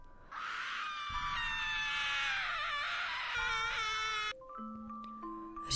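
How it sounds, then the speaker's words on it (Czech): A woman lets out a loud, sustained, high-pitched scream lasting several seconds, wavering in pitch, before it cuts off into a few thin electronic tones. "Vydala za sebe hlasitý jekot."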